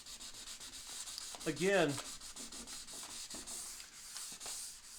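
Sandpaper loaded with Restore-A-Finish rubs across the wooden finish of a sewing cabinet in steady back-and-forth strokes, close and moderately loud, with a brief spoken word partway through.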